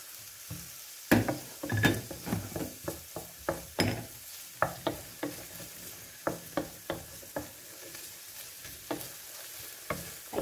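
Tomatoes sautéing in a pan for sardines with sotanghon noodles, a soft sizzle broken by repeated scraping stirs of a utensil in a steady, close rhythm.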